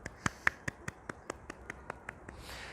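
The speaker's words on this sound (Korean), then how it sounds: "자, 박수 한번 치시죠." Hand claps during a yoga session: a quick, evenly spaced run of about a dozen sharp claps, fairly faint, with no talking.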